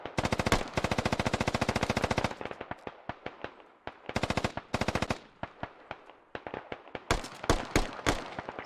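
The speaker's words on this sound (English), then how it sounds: "Oh, glorious suppressive fire." Suppressive gunfire in the game Squad: long sustained bursts of automatic fire alternate with scattered single shots and shorter volleys, loud and sharp, with no voices.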